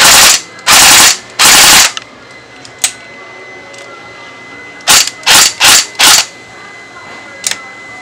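An airsoft gun with blowback fires in short, loud, sharp bursts: three rapid bursts at the start, then a quieter gap with a single snap, then four more bursts in quick succession, close by.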